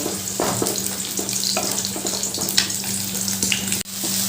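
Tomato, ginger and green chilli paste frying in a pan, giving a steady close hiss and sputter with a few stirring scrapes and one brief clatter near the end, heard alone.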